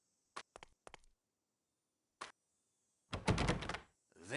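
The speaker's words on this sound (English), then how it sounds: "The door." Quiet room in a film of Agatha Christie's Evil Under the Sun: a few sharp knocks and clicks, then a heavier thudding rush as a door shuts, followed by a closing swell.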